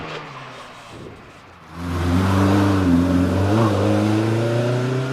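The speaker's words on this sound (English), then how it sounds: "So Alfie Coles has gone off the line in Mazda MX-5" Mazda MX-5 race car launching off the line at a hillclimb, its engine note jumping from a low idle to a loud, sustained high rev that climbs and holds steady, close and without talk.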